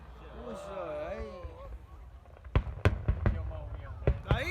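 Fireworks pop and bang on a summer night in Korea, sending several sharp bursts that are loud and fairly close. People talk before and during the blasts.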